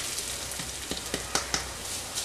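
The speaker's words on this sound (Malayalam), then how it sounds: "ഇനി ബ്രൗൺ നിറ ആകുന്നത് വരെ ഇതൊന്ന് വറുത്തെടുക്കാം" Grated coconut frying in a pan until brown, a soft steady sizzle with a few light stirring clicks and scrapes, close and alone.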